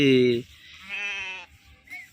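Sheep on a Telangana farm, part of a flock of fifty, bleat in two loud, wavering calls close by with a brief gap between them, followed by a short fainter bleat at the end.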